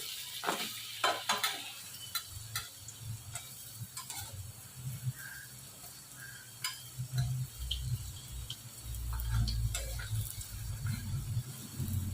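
Gram flour fritters fry quietly in oil with a soft, continuous crackle. Occasional utensil clicks and taps sound nearby.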